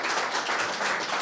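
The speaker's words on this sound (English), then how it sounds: "give her a big round of applause" Audience applause at a body language seminar, a brief steady wash of many hands clapping together at moderate volume, with no voices over it.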